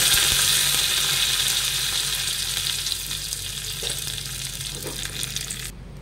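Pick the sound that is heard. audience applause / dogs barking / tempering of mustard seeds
tempering of mustard seeds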